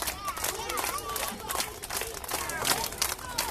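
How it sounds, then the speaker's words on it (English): Children at a summer day camp clap their hands together in a loose, overlapping burst, mixed with crowd noise and chatter from the group, moderately loud and close. "Go ahead and clap them"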